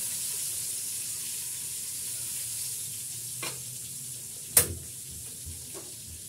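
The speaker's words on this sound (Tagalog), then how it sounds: "Nagluluto ako ng tilapia" Tilapia fries in a pan with a steady hissing sizzle at moderate volume, interrupted by a couple of faint taps and one sharp clack near the end.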